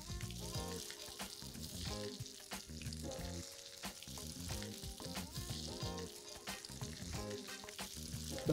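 Pomfret fish frying in a pan just after being flipped, giving a steady, dense sizzle and crackle that runs unbroken and fairly loud throughout.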